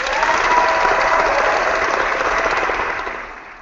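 A crowd's sustained applause, loud and dense with crackling hand claps, fading gradually toward the end with no voices over it.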